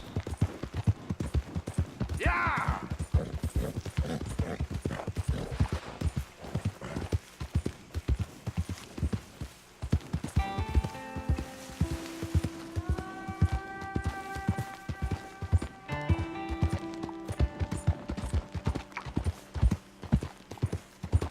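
A horse gallops in Red Dead Redemption 2 with fast, rhythmic hoofbeats throughout, a brief snort or whinny early on, and sustained game music tones joining partway through.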